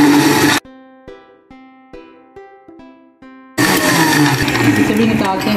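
A blender whirs loudly, blending watermelon juice with dry milk and ice. It runs in two bursts, a brief one at the start and a longer one after a few seconds of plucked musical notes.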